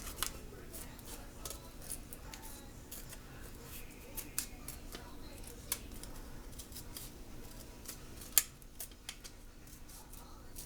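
Scissors snip through paper in a quick, uneven series of small crisp clicks and cuts, close and fairly quiet, with an occasional sharper snap.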